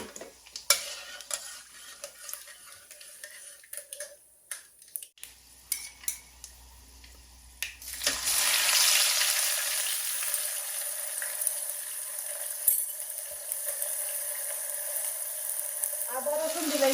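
Whole garam masala hits hot oil and sizzles loudly while a utensil scrapes and stirs it in the pan, after a few seconds of quieter clinking.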